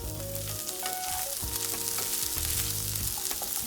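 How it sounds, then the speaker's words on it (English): Finely chopped French beans and carrot stir-fry on high flame for mushroom fried rice, a dense, steady sizzle with repeated scraping and tossing strokes in the pan, close up and unaccompanied by speech. "Cook these vegetables for at least a minute on high flame"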